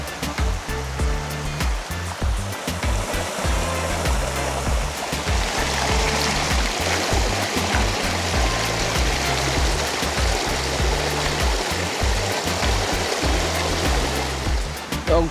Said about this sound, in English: I fill the jug with water.